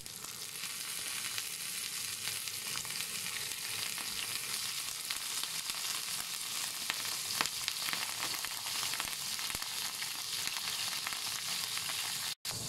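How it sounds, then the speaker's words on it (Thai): Mackerel sizzles and crackles steadily in hot, bubbling oil, a dense close-up frying hiss that holds for about thirteen seconds before a brief sharp knock near the end. "ตอนน้ำมันเริ่มเดือดเราก็เอาปลาทูไปทอดเลยค่ะ"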